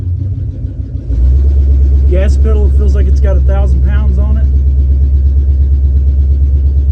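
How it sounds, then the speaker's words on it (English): A 1983 Chevrolet K5 Blazer with an open header rumbles loudly as it drives. The deep engine drone is heavy and continuous, and someone talks over it. "We're in the 83 K5, open header. Sounds like a trash truck."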